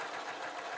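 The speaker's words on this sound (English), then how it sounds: "Couple more stitches. I'm going to reverse stitch as well." A sewing machine stitches fabric for jester slippers in a brief, steady mechanical whir, continuous and fairly faint throughout the short run.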